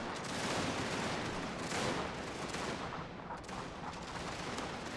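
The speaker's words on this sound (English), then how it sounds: "I'll order the Dragoons to fire because they are firing at us." Dense musket volleys from Dragoons in a battle strategy game, a continuous roar of overlapping gunfire crackling loudly for the whole stretch with no pauses.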